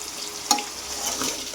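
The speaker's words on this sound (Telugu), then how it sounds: "ముక్కలన్నీ వేగిపోయాయి కదా. దీంట్లోకి అయితే టమాటాలు అయితే వేసేసుకున్నాము." Chopped tomatoes and onion pieces sizzle in a pan in a home kitchen while a spoon stirs them, a steady close fry with one brief scrape of the spoon against the pan.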